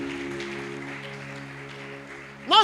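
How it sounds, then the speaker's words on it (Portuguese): Church congregation applauding during an evening worship service, a steady wash of clapping running beneath a sustained keyboard chord, with a brief louder swell at the very end. "Você pode aplaudir ao Senhor Jesus essa noite."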